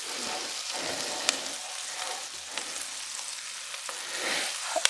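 Onions sauté in butter in a skillet, a soft continuous sizzle with occasional light clicks of stirring, moderately quiet and close, without speech.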